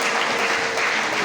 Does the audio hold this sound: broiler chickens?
no